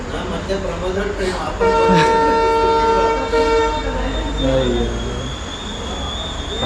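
A goods train rumbles past close by with a long sustained horn blast in the middle, and people talk over the steady rolling noise, near Kukke Subramanya railway station.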